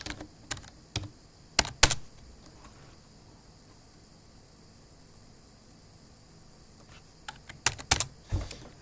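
Keys on a computer keyboard, used on a handheld running CachyOS, click in a few sharp clusters at the start and again near the end, separated by several seconds of near silence with a faint steady hiss.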